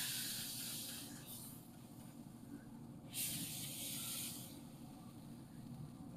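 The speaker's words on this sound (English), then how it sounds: "Let's go ahead and spritz this one more time." Spray bottle spritzing baby back ribs during cooking, giving two brief hissing bursts of mist over a low steady background rumble, close by.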